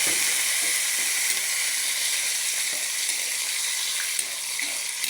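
Pork frying with aromatics in a pan gives a dense, steady, close hiss of sizzling fat, with faint stirring scrapes now and then and no voices.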